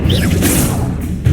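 Incendio fire spell cast in Hogwarts Legacy, a dense whooshing burst with crackling flare that swells and sustains for about a second, loud and close, no talk over it.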